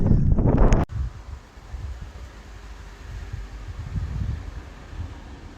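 Steady headwind buffets the microphone while cycling on a road in northern Spain, a continuous rumbling wind roar after a brief louder gust at the start, with no one talking.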